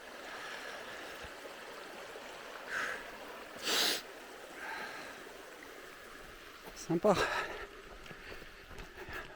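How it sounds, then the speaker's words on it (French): A small river flows through a forest in Montenegro, a soft, continuous murmur in the background while people speak briefly now and then. "Petite rivière."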